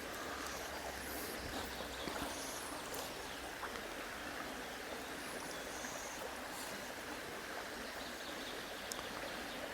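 A small, turbulent trout stream rushes and burbles steadily and close, a dense continuous wash of water with small splashes and no speech.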